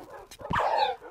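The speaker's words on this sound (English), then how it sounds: "I'm killing dogs." A Minecraft dog whimpering as it is killed in the video game, a single short yelping whine rising then falling, close and fairly loud.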